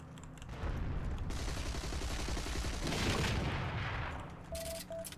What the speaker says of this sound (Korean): 오케이, 터진 소리 난다.